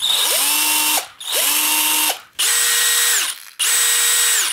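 DeWALT DCD701 12V brushless cordless drill spinning up in four close, loud bursts, each with a rising whine that holds steady and then cuts off, separated by short silent gaps.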